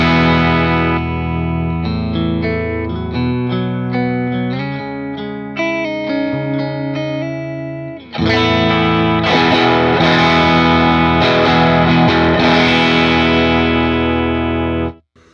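Telecaster electric guitar through a Marshall Super amp, recorded for amp capture: a continuous run of distorted chords and single notes that changes to a fuller, louder strummed section about halfway through, close and loud with no talking.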